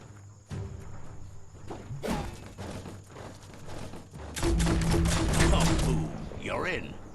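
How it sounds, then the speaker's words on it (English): Gunfire and a blast in the PS5 game Biomutant: scattered sharp shots, then a dense, loud burst of explosive crackle and rumble lasting a couple of seconds, with faint game sounds and a voice in the background. "Shoot it and watch it blow."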